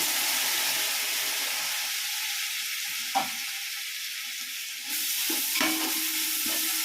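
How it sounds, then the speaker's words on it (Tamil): Tomato stirred into a frying pan of softened onion and chili powder for a carrot beetroot coconut milk biryani, a close steady sizzle and hiss with a few spoon scrapes and knocks against the pan, no talking. "இப்போ தக்காளி போடுறோம்"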